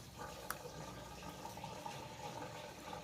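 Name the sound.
pouring 93 octane gasoline into a truck's fuel tank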